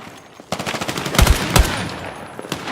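Rapid automatic gunfire in Battlefield 6 erupts up close, a dense burst of cracking shots with a couple of heavier, punchier blasts in the middle, loud and sustained for about two seconds.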